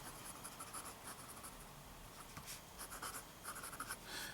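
IPG-nibbed fountain pen moving quickly across paper, soft scratchy strokes in quick bursts with brief pauses between them, faint and close.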